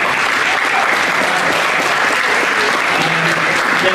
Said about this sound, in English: round of applause for the kids.